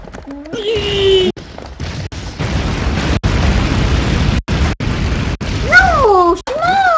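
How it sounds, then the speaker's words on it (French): In the video game Broforce, an explosion goes off behind the player, a loud, sustained blast-like roar broken by brief cuts, with short whistling and pitch-sweeping game effects near the start and end. "J'adore cette explosion, genre l'explosion derrière moi."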